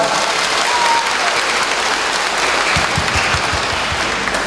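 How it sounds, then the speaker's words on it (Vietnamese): A church congregation at Easter Sunday Mass applauds steadily, a dense wash of clapping that keeps going at an even level throughout, with no voices over it. "Chúng ta tạ ơn Chúa một tràng pháo tay rộn rã."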